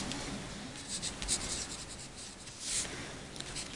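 Pen writing on paper while working out a partnership profit-sharing ratio, a steady close scratching texture with brief louder strokes, no talk.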